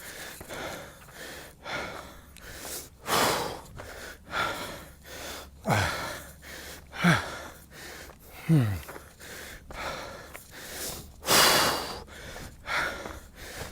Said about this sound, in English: I'm controlling my breathing